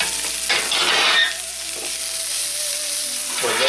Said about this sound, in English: put in a glug more oil, and then it's in with your garlic, ginger, spring onions and chilli